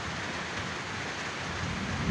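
Rain falling steadily on a farm, an even, close hiss of drops on surfaces with no voices.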